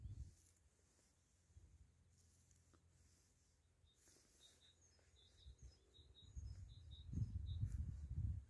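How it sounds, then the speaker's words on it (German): Small birds chirp and tweet faintly in the distance outdoors on a sunny walk among wildflowers near water, brief high calls scattered over a soft background murmur, with louder low rustling toward the end. "Hörst du die Vögel?"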